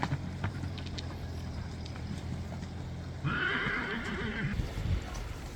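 A horse whinnies clearly partway through, with hoof clip-clop and wind noise on an outdoor ride.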